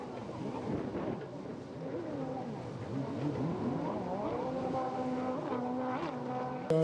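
Racing jet ski engines at a GX1 competition in La Seyne-sur-Mer, with a Kawasaki among the leaders, whine and rise in pitch continuously, several craft overlapping in a sustained, fairly loud droning roar.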